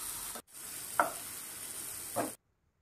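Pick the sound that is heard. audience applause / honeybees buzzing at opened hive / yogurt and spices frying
yogurt and spices frying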